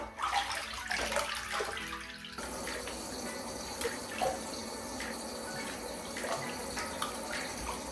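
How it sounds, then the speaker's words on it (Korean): Water running and splashing as shampoo is rinsed off a dog in a tub, a steady close pour with some irregular spatter at first, no talking. "이제 물로 헹궈 볼게요"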